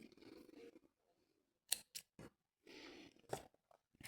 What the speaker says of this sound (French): Je monte une maille en l'air et je coupe mon fil.